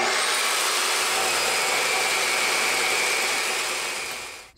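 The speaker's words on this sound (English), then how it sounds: "So I'm using my DeWalt right now, and I'm actually cutting this angle iron." A DeWalt power tool cuts through steel angle iron during a motorcycle trailer hitch build, a loud continuous high-pitched grinding whine that holds steady and then fades out at the end.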